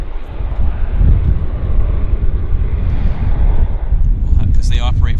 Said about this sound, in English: We'll see where this aircraft makes its way to.